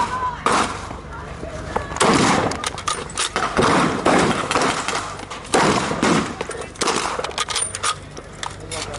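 Volleys of gunfire in a multiplayer video game, repeated bursts of loud shots in clusters over several seconds, with players talking over the noise.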